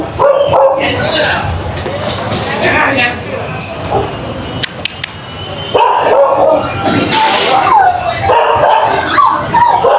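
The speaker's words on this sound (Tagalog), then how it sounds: "Ang daming aso." Several dogs bark and yip in bursts, some whimpering, mixed with people talking and general commotion nearby.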